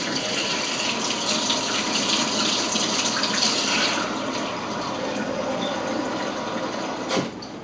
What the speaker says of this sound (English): I'm going to fill this up with hot water real quick.